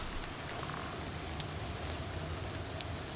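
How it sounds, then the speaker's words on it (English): Steady rainfall ambience from the Oblivion Remastered game, playing while deep inside ruins, a dense even patter that holds constant for the whole stretch with no voices over it. "Why am I hearing rain here? I'm deep in ruins."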